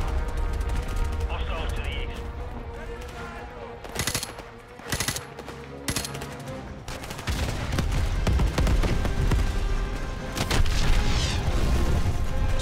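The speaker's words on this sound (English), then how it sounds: "You got enough freaking explosions?" Rapid bursts of gunfire and booming explosions from Call of Duty 4: Modern Warfare fill the scene, loud and dense, with a voice speaking briefly between volleys.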